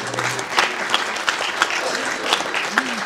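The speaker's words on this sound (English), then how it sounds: "get a little round of applause for Karen Marvin" An audience at an oyster restoration speaker series gives a round of applause for a volunteer, close and dense clapping throughout with a few louder claps and a faint voice mixed in.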